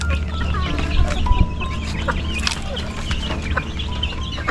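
Several chickens cluck and squawk close by, overlapping continuously over a low background hum.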